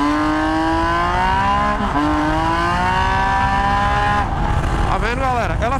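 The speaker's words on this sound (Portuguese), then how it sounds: "Isso é a embreagem da moto ruim, ela faz isso." Triumph Tiger 800 motorcycle with a bad, slipping clutch running steadily, with a brief dip as a gear is shifted and a wavering engine pitch near the end, loud and close.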